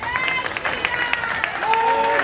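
Crowd applause at an anniversary event of a Hindi-speaking community centre, scattered clapping and crowd noise at moderate level, partly mixed with a voice and some tonal sounds.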